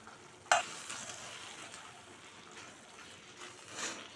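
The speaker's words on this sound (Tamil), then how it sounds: "மசாலாலாம் சேர்த்து நல்லா ஒன்று சேர வதக்கி விட்டுக்கலாம்." Quiet sizzling of masala sautéing in a pan for tomato thokku, with a sharp clink of a utensil near the start, then soft scraping and stirring over a steady fry.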